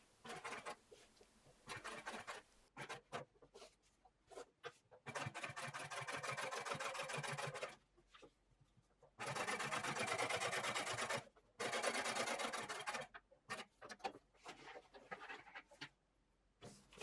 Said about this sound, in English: For a single row, just meet up with the previous stitching.